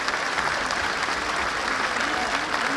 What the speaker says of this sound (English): can we give a big round of applause for Martin, who actually produced this statue